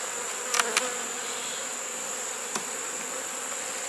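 Steady insect buzzing fills the air, a dense drone of many honey bees close by in a mite-affected hive, with a few brief clicks and taps.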